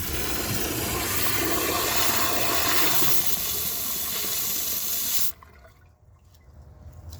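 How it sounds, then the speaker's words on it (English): A 1999 Porcelamex toilet flushes with a dry bowl, giving a loud, steady rush of water for about five seconds. It then cuts off abruptly and is followed by a quieter trickle and refill hiss, with no talk. "For the first flush test, let's see how it flushes with a dry bowl."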